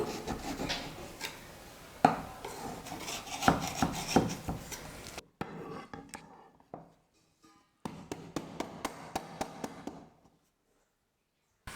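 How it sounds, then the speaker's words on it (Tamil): A knife scrapes and rubs around the edge of a baked cake in its tray in short strokes, with soft taps between passes and brief pauses. "கத்தி வச்சு சைடில் வந்து இந்த மாதிரி கொஞ்சம் கட் பண்ணி விட்டுருங்க"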